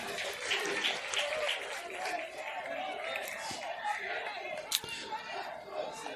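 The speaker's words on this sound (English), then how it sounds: "Crowd trying to get the tie back in it." A crowd at a Picayune vs. George County baseball game cheers and chatters steadily, pushing for a tying run, a broad, moderately loud wash of voices with scattered claps.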